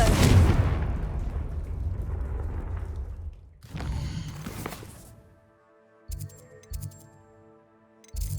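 Confringo blasts in Hogwarts Legacy: a loud booming explosive burst at the start decaying into a rumble, then another heavy blast midway, followed by quieter magical tones and a few soft thuds.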